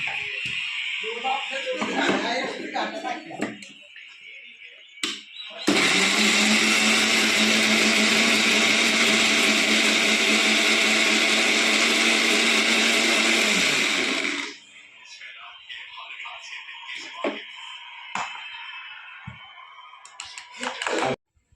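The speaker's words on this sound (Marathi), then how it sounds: "आता आपण मिक्सरमध्ये मसाला बारीक करूया." A mixer grinder grinding chicken masala runs loud and steady for about nine seconds, with voices and clatter before and after.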